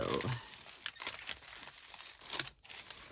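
Tissue paper crinkles and rustles under a hand smoothing out air bubbles, a close, soft run of papery crackles with a few louder swipes.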